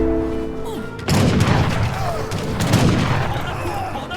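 Artillery fire in a video game booms hard and close, with heavy repeated blasts and rumbling impacts after a quieter opening, and a voice briefly heard.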